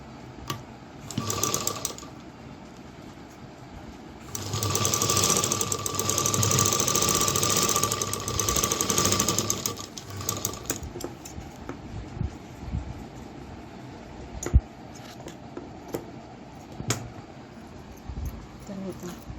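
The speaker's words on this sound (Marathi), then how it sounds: "दुसऱ्या साईडला सुद्धा दापशिलाई मारून घेऊयात" Sewing machine running a steady run of stitches while edge-stitching the side of a pocket on a handkerchief, one long continuous burst with shorter starts before and after, close and fairly loud, no talking.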